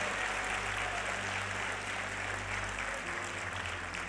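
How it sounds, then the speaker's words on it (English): An audience applauds Sebastian at a motivational talk by Les Brown: a steady, dense wash of clapping that holds evenly for about four seconds, with no talking over it. "Let's give him a round of applause for his vision."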